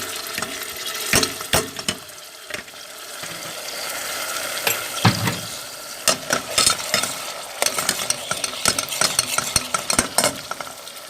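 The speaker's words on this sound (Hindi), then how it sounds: "प्याज ब्लेंड करने के बाद अच्छी तरह से हमने भून लिए हैं" Blended onion paste frying in a pan for shahi chole, a soft sizzle running underneath as a spoon scrapes and stirs, with sharp, irregular clacks against the pan growing busier toward the end.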